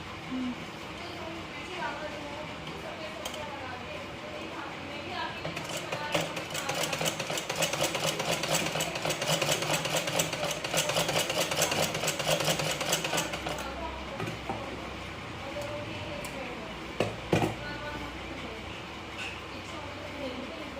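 A sewing machine stitches a blouse, its rapid rhythmic clatter swelling through the middle stretch of the clip and easing off afterward, with a voice in the background.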